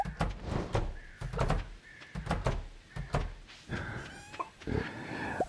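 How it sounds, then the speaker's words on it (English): Musical door in the Stardew Valley video game, bright chiming tones and short melodic blips playing in quick succession over game sound effects, clear and close. "Oh, musical door."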